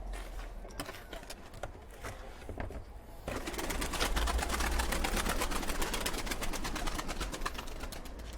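Pet birds flutter and shift about in the background of a room where plaster mineral stone is being made, with soft cooing and scattered wing and foot sounds under a steady low hum.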